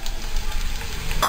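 Onion sizzles in three tablespoons of hot oil while being sautéed for bread pakora, a steady close crackling fry with a light scrape of stirring near the end.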